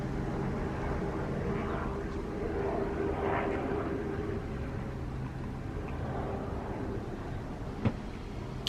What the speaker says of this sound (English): That's a helicopter behind me.